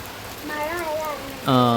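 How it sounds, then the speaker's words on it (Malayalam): Light drizzle patters softly in the background at a family home during an Eid feast visit, while people talk and call out over the steady hiss of the rain. "നല്ല മഴ മഴ ചാറിക്കൊണ്ടിരിക്കുകയാണ് ചാറ്റൽ മഴയാണ്"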